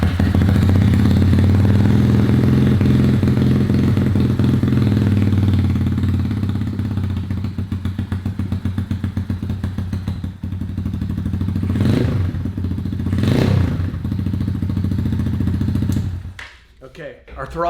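A Buscadero mini bike engine running steadily after low-elevation carburettor tuning: a loud, close, throbbing idle that swells with two quick throttle blips before cutting off near the end.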